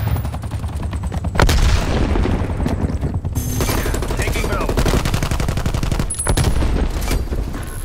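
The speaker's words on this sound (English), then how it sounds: "Artillery inbound." In Call of Duty: Black Ops Cold War on a Miami domination map, an artillery strike and gunfire sound as heavy booming impacts and sharp cracks over continuous rapid automatic fire, loud and sustained across the battle, with voices talking at times.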